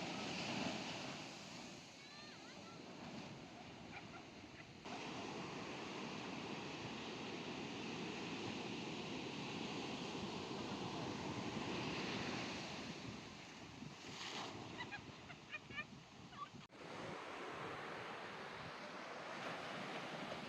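Sea waves wash onto the shore at Dwarka, a broad continuous surf roar mixed with gusty wind buffeting the microphone, with swells rising and falling over about twenty seconds.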